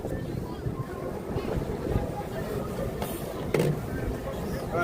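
Cold winter wind buffeting outdoors just after the New Year, a steady rushing roar with gusty low rumble throughout and a brief louder burst near the end.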